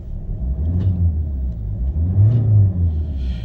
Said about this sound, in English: I'll give it a little rev just so you can perhaps hear the engine.